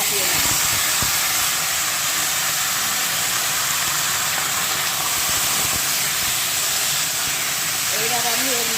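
Greens set to steam in a covered pan give a loud, steady broadband hiss throughout, close and continuous, with a faint voice near the end.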